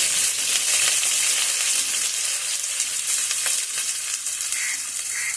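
Chopped garlic and onion sizzle in a hot pan in a home kitchen, a steady bright frying hiss with occasional stirring scrapes, close and continuous with no talking.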